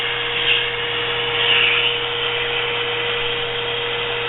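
Shop vacuum pulling foam out of a Brown's Gas (HHO) electrolyzer, a steady loud whirring roar with a constant hum beneath, running continuously throughout with no talking.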